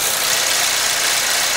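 A 2008 Saab 9-3 2.0T engine idles steadily with a slight hesitation, a dense continuous mechanical rumble heard up close with no talking.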